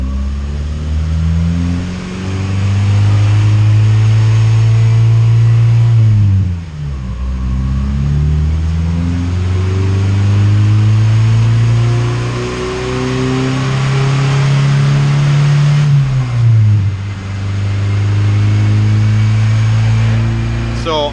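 A Honda CR-V with a naturally aspirated B20 engine revs on a dyno, its loud, close engine note rising steadily through the gears in two long pulls, each ending with a brief dip before climbing again.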